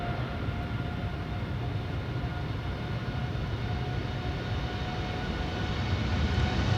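A TUI Boeing 787 Dreamliner, Belgian-registered OO-JDL, departs Amsterdam Schiphol's Polderbaan runway 36L on a sunny morning, a steady broad jet roar with faint tonal whine holding level and swelling slightly toward the end.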